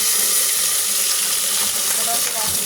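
Garlic and onion sautéing in a pan for a vegetable dish: a loud, continuous close sizzle with light stirring, and a brief voice faintly in the background.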